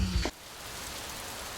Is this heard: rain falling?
yes